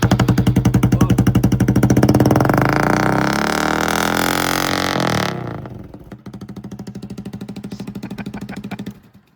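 A Honda CRF110 dirt bike fitted with a sprinkler tube exhaust mod runs nearby, a loud rapid putter revving up into a sweeping roar, then dropping back to a choppy idle that cuts off.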